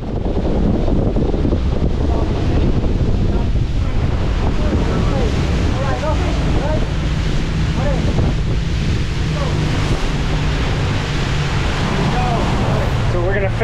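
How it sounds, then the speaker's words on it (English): Ocean surf roars and crashes continuously along a Costa Rica beach, mixed with heavy wind buffeting the microphone, with occasional voices faintly underneath. "You can see the waves breaking."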